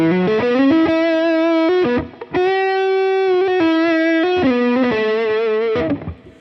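A heavily overdriven electric guitar through two stacked overdrive channels rings out sustained, saturated notes and chords with a thick, compressed tone, pausing briefly midway before continuing.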